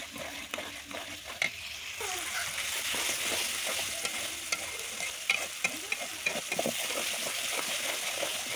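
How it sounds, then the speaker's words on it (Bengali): Potatoes sautéing in a pan with a little water and turmeric for a Bengali dish, a steady sizzle with repeated stirring scrapes and clinks of a spatula, close and fairly loud, no talk. "এই জন্য আলুটা একটু কষিয়ে নিচ্ছি।"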